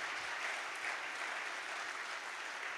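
Audience applauds at the 46th Air Brigade's 80th anniversary celebration in Pisa, an even, continuous wash of many hands clapping, fairly faint and far off, with no voices over it.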